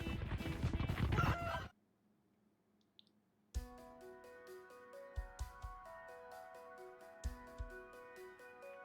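Monster chickens in Fate/Grand Order cluck and squawk loudly at first, then a near-silent pause gives way to plinking, rhythmic game music with faint percussive hits.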